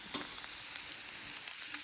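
Food sizzles steadily while frying in a skillet on a stove and is stirred, with soft scraping touches over a continuous low hiss and no talk.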